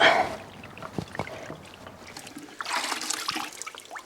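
Coolant pours out of the housing during a filter change on a 1980 Peterbilt 359 truck, heard as close splashing and trickling liquid in uneven gushes, with a brief spell of quieter dripping between them.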